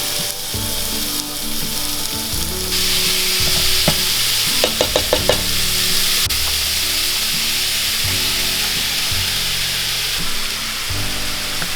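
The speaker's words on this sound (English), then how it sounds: "So we've got about a pound of meat browning" About a pound of ground meat browns in a medium-sized skillet over medium-high heat, a steady loud sizzle with scraping stirs and a few sharp taps of the utensil against the pan, running throughout under a faint low background hum.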